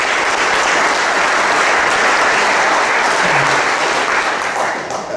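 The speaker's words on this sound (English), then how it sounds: "I think that we should put a round of applause together for ourselves for all your participation with those donations." A conference audience at a 2018 presentation in Amsterdam breaks into a loud, sustained round of applause that holds steady for several seconds before tapering slightly at the end.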